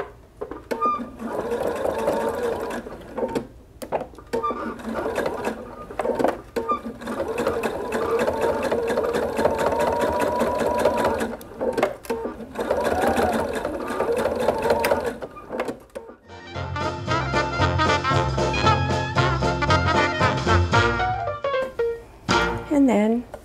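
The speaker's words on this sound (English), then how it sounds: "insert the oven mitt over the arm of your sewing machine and stitch real close to the edge of the binding" A sewing machine stitches an oven mitt's binding in bursts with a rapid mechanical stitching rattle, pausing briefly between runs, loud and close.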